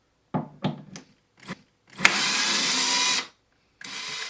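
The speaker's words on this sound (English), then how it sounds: "with so many screws there's no other way but use the power drill" A few light knocks and taps, then a power drill whirs steadily for about a second before stopping, followed by another short burst of drilling, unscrewing screws from a Yamaha P45 digital piano.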